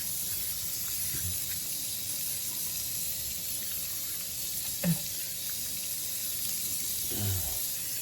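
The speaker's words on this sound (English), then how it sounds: "let's rinse this alum off." An alum block is rinsed under a running tap: a steady, close hiss of flowing water continues throughout, with a couple of soft knocks near the middle and end.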